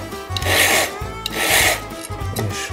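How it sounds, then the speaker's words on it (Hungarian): A hand file rasping metal flat at a workbench, heard as long, rhythmic back-and-forth strokes, about three loud grinding passes with brief pauses between, close and alone. "reszelőkkel szoktam ugye fémtisztára reszelni"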